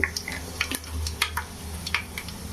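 Mustard seeds, urad dal, fenugreek and black pepper fry in hot oil for a fish curry tempering, with sharp scattered pops and crackles over a low sizzle, close up and with no speech.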